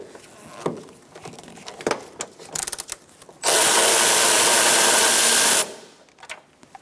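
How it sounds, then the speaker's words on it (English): A 12mm socket wrench spins a bolt out during removal of the engine cooling fan assembly on a 2014-2019 Kia Soul 1.6L; a steady, loud whirring buzz runs about two seconds after scattered clicks and handling clatter. "Now we're going to take out this bolt using a 12mm socket."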